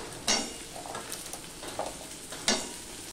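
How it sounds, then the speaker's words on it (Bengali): Potatoes going into a pan with onion and garlic that are already partly fried, giving a soft, low sizzle broken by a few sharp scraping stirs and utensil clatters, close and alone without talk. "আলুর সাথে পেঁয়াজ রসুনটা ভাজা হয়ে যাবে"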